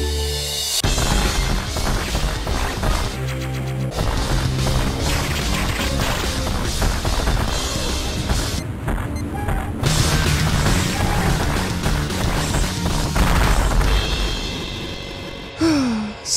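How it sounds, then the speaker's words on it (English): Missile explosions from the video game Metroid Fusion, a dense run of loud crunchy blasts and booms following one another with little pause, game sound effects heard alone without talk. "the little thing I love about Fusion are the sound effects. More specifically, the missile explosions"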